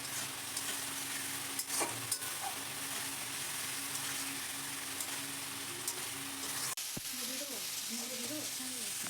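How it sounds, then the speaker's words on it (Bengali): A spice paste with tomato, cooked for a Bengali bata fish curry at home, fries in a pan with a soft steady sizzle and occasional stirring knocks, and a voice comes in briefly near the end. "মা নাড়ছে, ভালো করে নিয়ে নিতে হবে, কষিয়ে নিতে হবে মশলাটা।"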